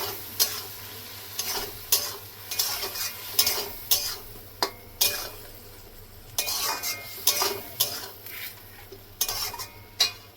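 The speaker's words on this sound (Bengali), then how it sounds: "মশলাটা সুন্দর করে মিশিয়ে নেব।" Spice paste is stirred in a pan after frying, giving close, irregular scraping and clinking strokes of a utensil against metal over a low sizzle and a faint steady hum.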